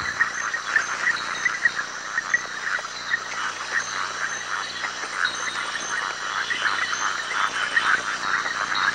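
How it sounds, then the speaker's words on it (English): Red-eyed tree frogs call from lowland swamp forest in a dense, steady chorus of overlapping croaks and clicks that continues without a break, loud and close against a constant insect-like hiss. "These are red-eyed tree frogs, and they live in the lowland swamp forests not far from the home of the vanished golden toad."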